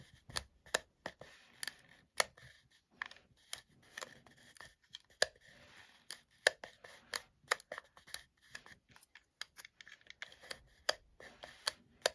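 A hand-cranked cord knitting machine turning yarn into a tube gives a series of sharp, close plastic clicks in an uneven, repeating rhythm, with faint handling noise between them.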